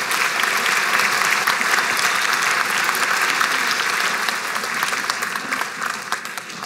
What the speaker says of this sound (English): so we can give these guys a round of applause